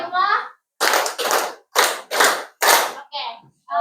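A group stands together in a classroom counselling session and claps five times in unison, loud and crisp, in a quick uneven rhythm. A leader's voice speaks just before the claps and again after them.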